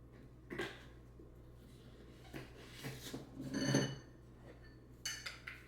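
Protein powder being scooped and stirred in a bowl, with a spoon scraping and clinking against the sides in a few separate bursts, fairly close but soft, no talk.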